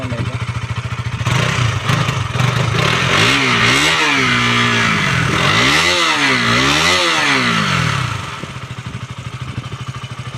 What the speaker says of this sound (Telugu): చూసుకోవచ్చు ఇంజన్ సౌండ్ అయితే.